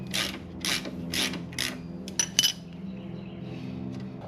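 A 5/8 wrench ratchets on the brake pedal bolt in a vehicle's footwell, giving four evenly spaced clicking bursts, then a couple of sharp metallic clinks, close up with no talking.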